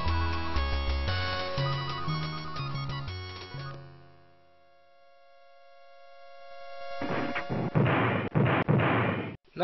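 In the Space Quest I adventure game, a spaceship crash-lands: a chiptune melody fades away, then after a quiet gap a loud, noisy burst of crashing and smashing rises and holds to the end.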